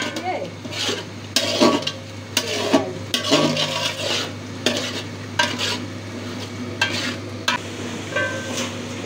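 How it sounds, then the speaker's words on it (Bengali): Shrimp and malabar spinach being stirred and fried in a pan, with repeated scraping and clattering strokes of a utensil over a steady low sizzle, loud and close throughout. "রাতে রান্না হচ্ছে চিংড়ি মাছ দিয়ে পুঁই শাক।"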